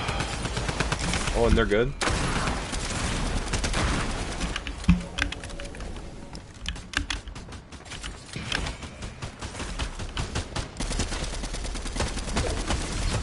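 A heavy-recoil gun in a Fortnite match firing rapid, dense shots almost without a break, heard loud beneath excited talking from a player.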